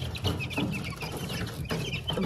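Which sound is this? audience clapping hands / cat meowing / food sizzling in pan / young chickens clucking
young chickens clucking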